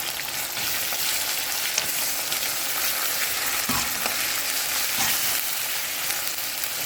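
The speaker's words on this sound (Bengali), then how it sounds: "আমি রসুন আর আদা দিয়ে দিচ্ছি এখন ভাজা করে নেব ভালো করে" Dense, continuous crackling sizzle from garlic and ginger frying in oil in a pan, fairly loud and close, with a few soft stirring knocks.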